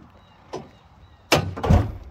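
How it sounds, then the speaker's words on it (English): School bus hood closing during a pre-trip inspection: a light clack, then a louder heavy thunk with rattling follow-through, nearby and without speech. "close the hood."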